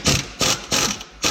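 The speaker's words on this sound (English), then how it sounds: "We're gonna try to see if we can break this loose with an impact." An impact wrench hammers at a 21 mm lower shock bolt on a Chevy Silverado in four short, loud, close bursts separated by brief pauses. There is no talk.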